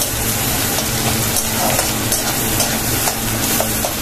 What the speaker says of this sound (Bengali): পেঁয়াজগুলো হালকা, বেশি না, হালকা একটু জাস্ট একটু কালার আসবে, পেঁয়াজগুলো ভাজা করে নেব।